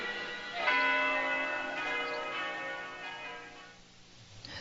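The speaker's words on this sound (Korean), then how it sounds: "맨 마지막에 성당의 종소리" Church bells ring in the final scene of The Godfather, a single resonant peal that swells early and then decays slowly with sustained ringing overtones, heard alone without speech.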